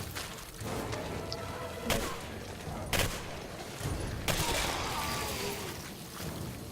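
Gunfire in the video game Singularity: several sharp shots burst out at irregular intervals over a dense, noisy battle background with thuds and crashes.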